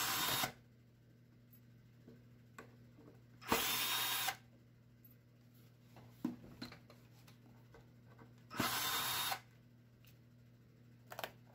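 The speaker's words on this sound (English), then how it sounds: "I'm only removing the outside screws on the pick guard." A power drill whirs in three short bursts, each under a second long, as it backs out the outer screws of a Strat-style guitar's pickguard, with quiet pauses and small handling clicks in between.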